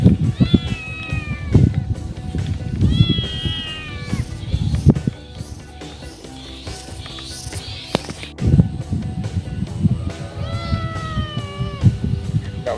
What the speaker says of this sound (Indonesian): Waduh, ada meong lagi,